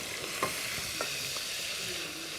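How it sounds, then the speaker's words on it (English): Onions fry in a hot pan with a loud, steady sizzle and crackle, broken by a few soft stirring scrapes, heard close and without speech. "So let that fry."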